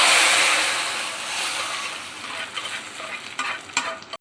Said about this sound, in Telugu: పోపు వేసాం, ఎంత మంచి సౌండ్ వచ్చింది